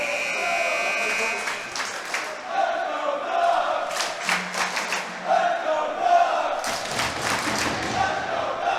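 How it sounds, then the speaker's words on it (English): Crowd of fans cheering at a men's hockey game between Oshawa and Victoria in the final seconds, a broad roar with bursts of clapping and shouts rising and falling throughout, plus scattered thuds. "First bit of real cheering and noise we've heard in the last few days"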